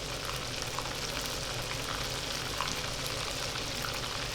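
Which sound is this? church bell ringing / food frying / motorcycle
food frying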